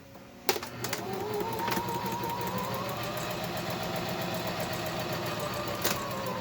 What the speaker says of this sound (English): Now we're going to start sewing the mask together.